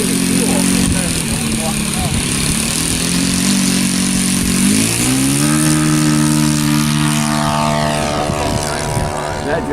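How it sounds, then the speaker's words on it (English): A Seagull Edge 540 model airplane's large engine runs loud and steady close by, its pitch rising as it revs up, with people talking over it. "That's a big engine"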